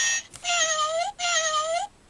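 Two electronic cat meows from a children's sound book, each a drawn-out, slightly falling meow with a clear harmonic tone, played back-to-back with a short gap, loud and alone.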